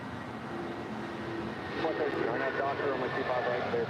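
A United Airlines Boeing 757-200 bound for Newark rumbles at LAX, a steady broad engine roar that swells slightly partway through, with someone talking over it.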